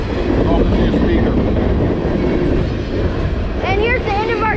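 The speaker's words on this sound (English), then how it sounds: "So that was a manifest freight train." A manifest freight train of hoppers, containers and flat cars rolls steadily past Halethorpe Amtrak station in Maryland, a loud continuous rumble with rail clatter and brief squealing wheel tones near the end.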